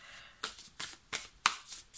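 Tarot cards being shuffled by hand, a series of about five crisp riffling bursts in a quick, uneven rhythm, close and fairly quiet.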